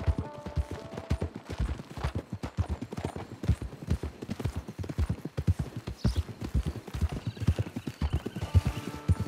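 Horse hooves clip-clop steadily in a brisk repeating rhythm along a trail near a camp, close and clear, with an occasional whinny and no talk over them.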